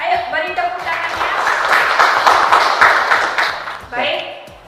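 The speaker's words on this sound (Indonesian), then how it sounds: "Ayo beri tepuk tangannya." Students in a classroom lesson break into a burst of hand clapping that swells into steady, dense applause for several seconds, with a teacher's voice speaking before it and again as it fades.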